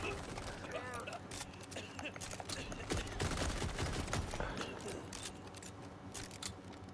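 Rapid gunfire from a gun in Borderlands 4 crackles in dense bursts amid game effects and music, loud and continuous, with someone speaking over the shooting.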